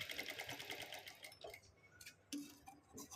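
A sewing machine stitches a bunched-up latkan tassel for partywear, running in a steady rapid whir of needle ticks, then pausing and giving a few short bursts with small clicks.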